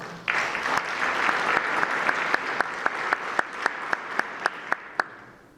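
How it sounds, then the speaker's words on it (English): A crowd applauds steadily, the clapping thinning toward the end into a few loud, evenly spaced individual claps. "Let's give them a round of applause."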